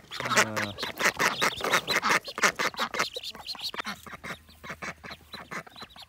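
Ducks quack in a close, busy chorus of short repeated calls, loud and overlapping, with a few honking notes early on.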